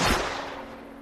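A single sharp gunshot in a film scene, a loud broadband crack that decays over about a second with no voices.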